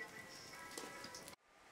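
Steady rain falls outdoors in Ireland in the evening, a dense, even patter on surfaces that continues without talk and cuts off abruptly near the end.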